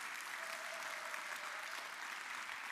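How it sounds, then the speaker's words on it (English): Audience applause at a travel creator conference panel, a steady even wash of many people clapping, heard at a distance and fairly soft. "Please give them a big round of applause."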